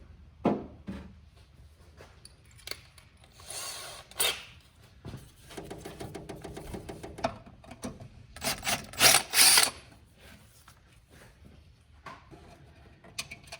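A power drill bores a slightly larger hole with a bigger bit while a PCV catch can is fitted to a Foxbody Mustang, giving short, uneven bursts of whirring and grinding between quiet pauses.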